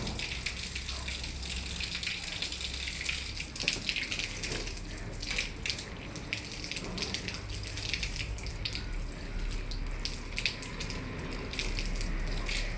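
Water runs and gushes steadily from a hose or tap onto garden plants, a continuous splashing flow with no one speaking.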